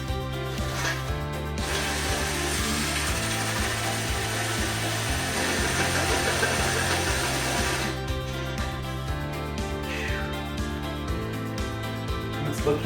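A power drill widens a hole in an Aldi mulled wine warmer with a loud, steady, close whirring grind that rises in pitch and pulses as the bit works through the metal, with no pauses.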